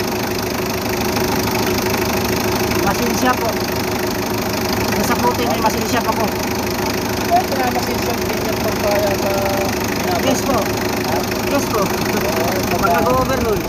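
Steady idling of a Mitsubishi 4D56 diesel engine with an even, continuous rumble and faint mechanical ticking, running on without pauses.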